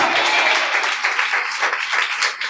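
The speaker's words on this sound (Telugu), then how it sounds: "గట్టిగా చప్పట్లు కొడదాం ఒకసారి." Loud, sustained applause from a church congregation during a Telugu Christian sermon, broadband clapping filling the whole clip without pause.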